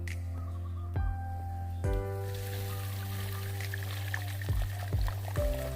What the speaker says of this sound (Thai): เสร็จเรียบร้อยแล้วเราก็ทำการถ่ายน้ำลงไปเลยครับ